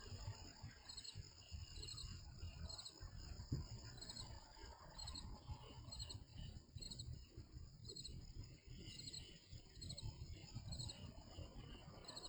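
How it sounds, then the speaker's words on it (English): Crickets chirp at night in a fast, steady, pulsing trill that repeats throughout, faint and distant over a low rumbling background. "I can hear crickets."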